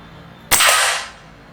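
A single muffled air rifle shot sounds close by with a sudden sharp crack, then a hissing rush of air that fades away within about half a second over quiet background.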